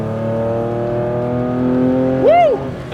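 A Porsche 964-based Theon Design 911 coupe engine pulls hard, a loud steady tone climbing in pitch, then a sharp rev surge and drop near the end, close and with no talk.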